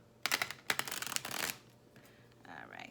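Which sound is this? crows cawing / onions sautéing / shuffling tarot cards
shuffling tarot cards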